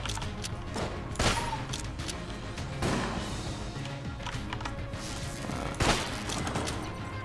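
Gunfire in the video game Enter the Gungeon, with a few sharp shot bursts spaced several seconds apart over a dense, busy game soundtrack.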